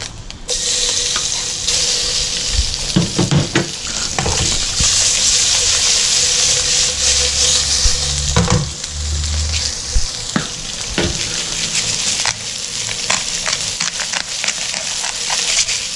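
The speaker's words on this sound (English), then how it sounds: "We're going to um, chuck in this pan here with a bit of salt and pepper and garlic" Blue throat wrasse frying in a pan with salt, pepper and garlic gives a loud continuous sizzle, with intermittent scrapes, clatter and handling noises close by, and no voices.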